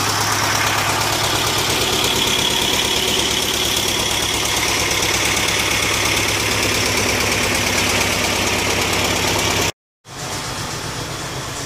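A T-25 Vladimirets tractor engine idles steadily at close range, a loud, continuous rough diesel chug with fast even knocking pulses, briefly cutting out for a moment near the end before resuming.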